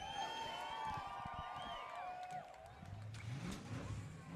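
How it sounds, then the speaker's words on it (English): Race car engines fire up and rev together at the start of the LeMullets endurance race, a loud, dense roar of several motors with rising and falling pitch, crowd noise underneath and no talk over it. "Start your engines."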